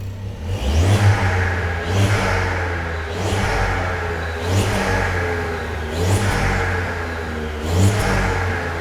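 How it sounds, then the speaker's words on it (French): A VW Up GTI stage 3 with a sport catalyst and sport exhaust revs repeatedly on a dyno, each roughly one-second blip rising sharply and falling back in a steady, loud rhythm with a deep exhaust drone underneath. "Il y a plus de son à l'échappement déjà"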